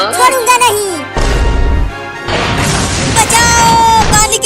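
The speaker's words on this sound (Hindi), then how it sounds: "पानी की टंकी टूट गया।" A cartoon water tank breaks in a desi comedy, giving a loud crashing boom with splashing burst noise that follows a voice and runs under further shouting.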